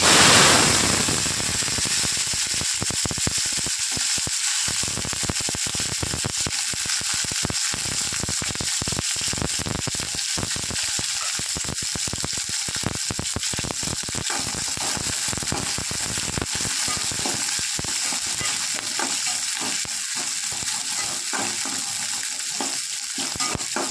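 Onion, garlic and curry leaves crackle in hot oil over a mustard and fenugreek tempering, a steady dense sizzle with sharp popping spatters that runs loud and unbroken throughout, with no talking.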